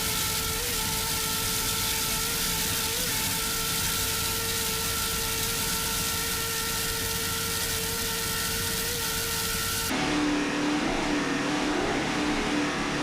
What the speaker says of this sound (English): One of the many Mercury-powered boats here this week. Mercury-powered Supercat engines, Mercury number 6 drives